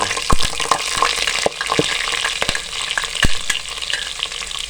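Loud, close sizzling of garlic and onion frying in a pan for aloo matar pulao, punctuated by repeated scraping clacks of a spoon stirring.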